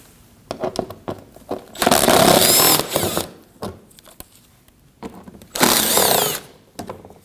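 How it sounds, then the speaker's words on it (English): Power drill driving out two 5mm screws from the outer edge of a 2015-2024 Ford Edge front bumper lower panel, with two loud sustained whirring bursts separated by softer clicks and handling noises. "We'll remove these 2 5mm screws here on the outer edge of the front bumper."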